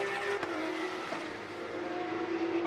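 A BTCC touring race car passes at Brands Hatch Indy circuit, its engine note drawn out with a shifting tone, heard at moderate distance under steady crowd and track ambience, with no speech.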